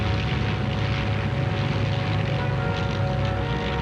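WWII bomber aircraft flying overhead, a loud unbroken propeller engine drone with a steady hum that holds throughout.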